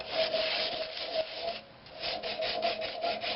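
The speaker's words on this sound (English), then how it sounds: "Take my sanding marks out." An old pine cabinet knob being hand sanded with the grain, a close, steady rasping scrub in rapid back-and-forth strokes with a brief lull midway.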